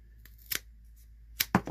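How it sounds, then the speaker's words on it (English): Pruning shears snip through a woody fig cutting close to the bottom bud, a few short, sharp, close clicks spread over a moment of quiet. "We're going to cut close to the bottom bud."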